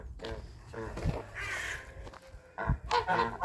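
Geese honk intermittently while grazing on grass alongside turkeys outdoors in a yard, with loud nearby calls breaking through as a person talks over them.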